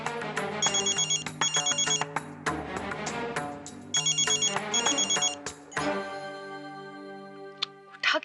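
A mobile phone rings with a melodic ringtone, playing a repeating electronic tune in loud bursts that break off and resume, alone without talk.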